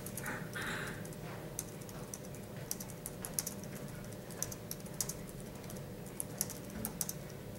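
Computer keyboard typing heard faintly, with scattered light key taps and short bursts of clicks over a steady low background hum and no talking.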